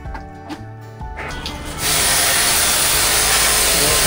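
Pressure pump water spray blasting a split AC unit during a caustic soda wash, starting as a softer intermittent hiss and then building into a loud, steady, broadband rush of spraying water that continues to the end.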